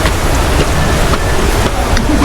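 Hail falling like ice makes a loud, dense, continuous patter with scattered sharper ticks of individual stones striking nearby surfaces.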